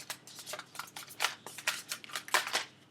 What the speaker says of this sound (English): Flash shuffle. Can I get advice for the fire signs?